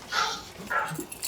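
A friendly dog at a town selectboard meeting gives a couple of short, yappy barks and whimpers, faint and somewhat distant in the room.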